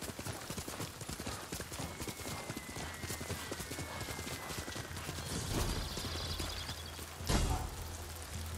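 Rhythmic hoofbeats of a horse clip-clopping at a steady trot, with a soft wash of background ambience and a couple of louder thumps near the end, in the video game Ghost of Tsushima.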